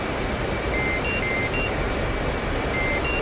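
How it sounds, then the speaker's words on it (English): Intermittent electronic warning beeps from an aircraft cockpit in a flight simulator, short tones repeating in small groups over a steady hum of engine and air noise, with no talk. "It shouldn't be beeping at me, but it is."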